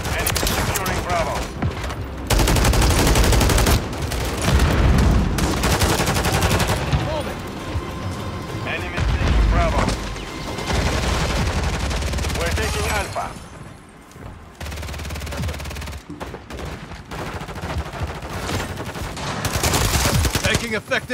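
Dense gunfire from Call of Duty Modern Warfare, played in a Domination match, with automatic bursts and fusillades rolling on loudly almost without pause, mixed with explosions and radio voice callouts.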